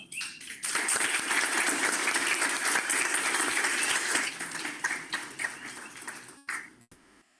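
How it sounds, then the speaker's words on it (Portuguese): Audience at an academic talk on pressurized biodiesel extraction and production applauds enthusiastically, a dense sustained clapping that fills several seconds before fading out quickly. "Estou vendo que você está aí, bateu palmas efusivamente."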